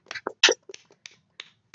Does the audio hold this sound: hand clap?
yes